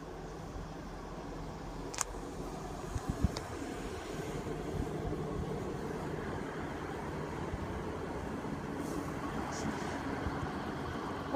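A steady low rumble of a train passing straight through a station platform, with a few faint clanks and squeaks over the continuous drone, heard from a moderate distance.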